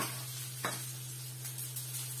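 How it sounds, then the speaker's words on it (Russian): A vegetable sauté fries in a pan, giving a soft steady sizzle over a constant low hum, with a brief stirring scrape partway through and no voices. "Зажарочка готовится."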